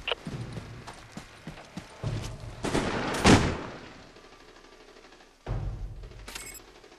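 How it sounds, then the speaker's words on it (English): Gunfire in the video game Army of Two: The Devil's Cartel: scattered sharp shots and clattering impacts, with one louder burst near the middle and another volley near the end, and no talking. "Find out what he's shooting at."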